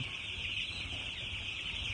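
Chickens on a poultry farm cluck and call in a steady, busy chorus, close and fairly loud, with a constant hum of the shed running underneath and no one speaking.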